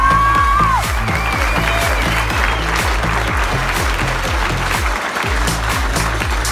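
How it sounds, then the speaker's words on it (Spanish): A boxing arena crowd applauds and cheers two female fighters after a WBC international title bout, sustained loud clapping over a thumping rhythmic beat of music, with an announcer's tone rising at the start. "Creo que ambas merecen un fuerte aplauso."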